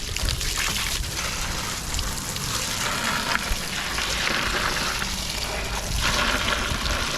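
Water poured from a container over blue crabs sitting on ice in a cooler, a steady splashing gush and trickle running continuously for several seconds, close and without talk.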